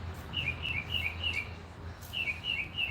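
Small birds chirp in quick bursts of high, bright tweets, two separate runs of calls heard a little distant over a low steady outdoor hum.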